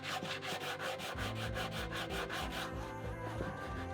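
A routed wood edge being hand sanded with 80 grit sandpaper wrapped on an MDF block, about a dozen quick, even rasping strokes, close and clear, before the rubbing eases off near the end.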